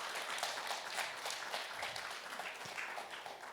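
An audience applauding at a talk against violence, with a steady wash of many hands clapping at moderate distance throughout, even and unbroken.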